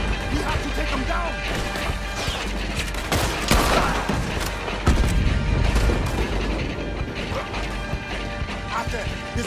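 Rapid bursts of video game gunfire and mechanical clatter over a dense, noisy background, with talking mixed in.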